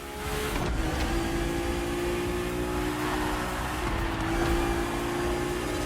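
A BMW race car in the racing video game The Crew Motorfest, its engine droning loud and steady with a sustained rising whine as it drives, and no talking over it.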